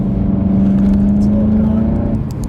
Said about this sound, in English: Tires aren't gripping at all, braking slowly, cornering.